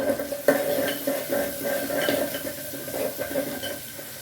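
Seeraga samba rice for chicken biryani is stirred in a pot, with repeated rhythmic scraping and knocking of a spoon against metal over a soft, low sizzle.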